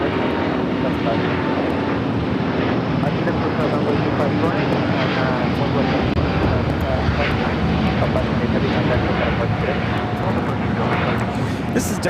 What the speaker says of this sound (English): 528 taking off to Atlanta on the A350-900